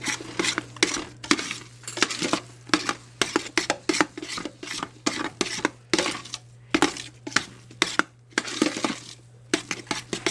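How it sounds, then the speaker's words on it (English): Homemade Velveeta-style cheese being stirred in a pot: a close, steady run of scraping strokes and clinks of a utensil against the pot, repeating irregularly with no talking. "And just keep stirring it, and you'll see it kind of puff up as it gets warm and as you stir it in"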